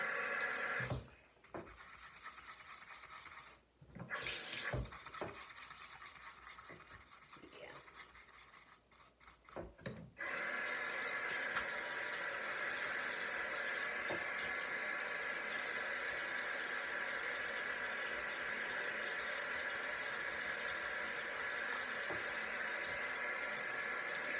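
A running tap splashes into a sink while makeup brushes are washed, first in short bursts with scrubbing, then as a steady, close stream of water for a long stretch, with a voice speaking at times.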